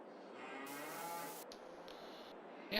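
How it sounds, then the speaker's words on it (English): A cow in the Farming Simulator 22 video game gives a long, drawn-out moo, fairly faint, with soft ambient tones and a brief click at the end. "See the grass, the cows are just grazing on some dirt."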